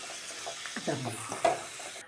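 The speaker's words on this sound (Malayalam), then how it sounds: "ഇതിലിത്തിരി കടുക് വറുത്ത്" Mustard seeds frying in hot oil for an Irumban puli (bilimbi) pickle, giving a steady close sizzle with a few louder crackles and stirring scrapes partway through.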